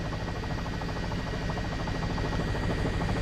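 A news helicopter hovers over a road scene where Summit Boulevard is closed between Davis Road and Congress, its steady, close rotor and engine drone filling the whole stretch with a dense, continuous throbbing roar.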